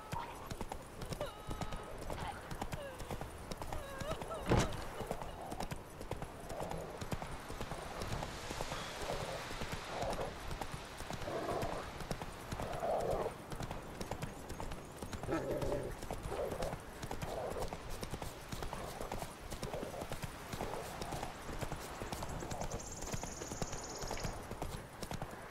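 A horse gallops in The Witcher III video game with steady, rhythmic hoofbeat clip-clops running throughout, briefly interrupted by a sharp thump, while faint voices and background sound sit underneath.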